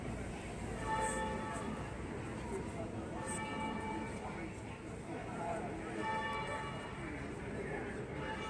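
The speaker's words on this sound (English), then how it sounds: "Those church bells you can hear, that's actually a church" Church bells ring out at a distance near Australia House in London during a protest, several tolls spaced over the scene, faint beneath crowd chatter and street noise.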